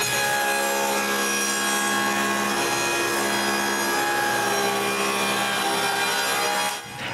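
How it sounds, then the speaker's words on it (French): A saw cuts a groove along wooden rails for a bathroom vanity. The steady, loud whine holds for about seven seconds and then stops abruptly, with no talking. "là, je peux couper une rainure sur tous les morceaux"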